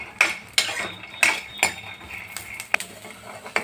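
Peanuts are dry-roasted in a pan and stirred with a metal utensil, which produces close, sharp clinks and scrapes against the pan at an irregular pace over a soft background hiss.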